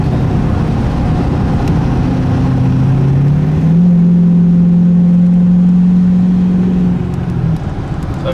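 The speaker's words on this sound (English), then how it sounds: "I guess I could do like a little acceleration thing." Ford 6.7 Powerstroke diesel pickup running a straight pipe accelerates, a steady drone that rises in pitch as it pulls, loud and close, heard from inside the truck with no talking.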